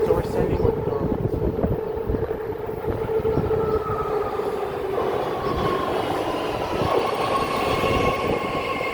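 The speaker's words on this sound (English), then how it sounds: "All right, we'll be boarding the train." A southbound BART train to Berryessa arrives at Coliseum Station, rumbling and clattering close by with a rising metallic squeal and hum as it slows, with faint voices in the background.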